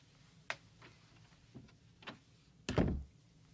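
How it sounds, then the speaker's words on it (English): An interior door closes with a solid thump near the end, preceded by a few faint clicks and footstep-like taps in a quiet room. "Shut the door."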